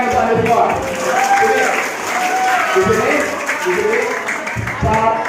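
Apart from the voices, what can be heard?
students applauding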